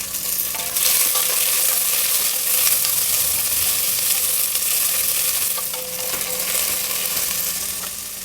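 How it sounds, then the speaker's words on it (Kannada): Mustard seeds, curry leaves and two medium onions sliced lengthwise fry in oil in a pan, giving a loud, steady broadband sizzle with a few faint pops and stirring scrapes, no voices. "ಸಾಸಿವೆ, ಕರಿಬೇವಿನ ಸೊಪ್ಪು, ಈರುಳ್ಳಿ, 2 ಮೀಡಿಯಮ್ ಸೈಜಿನ ಈರುಳ್ಳಿನ ಉದ್ದುದಕ್ಕೆ ಹಚ್ಚಿಟ್ಕೊಂಡು ಹಾಕಿದ್ದೀನಿ."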